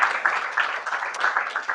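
Applause from a conference audience during speaker introductions at an energy assembly, a steady dense patter of many hands clapping at moderate volume, continuous throughout with no pauses.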